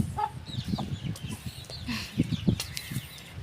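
Chickens cluck in short, irregular bursts at close range, several birds overlapping against a light outdoor background, with no one talking.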